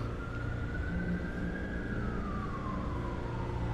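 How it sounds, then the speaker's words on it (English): Emergency vehicle siren on a downtown Los Angeles street: one continuous wailing tone that slowly rises and then falls, fairly distant, over a steady bed of city traffic rumble. "I hear more sirens."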